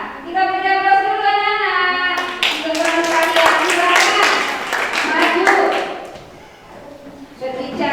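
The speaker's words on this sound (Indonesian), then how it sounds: "Kita beri aplaus dulu ya" Applause breaks out in a classroom for a student group, a dense patter of many hands clapping together for several seconds, fading near the end before a voice speaks briefly.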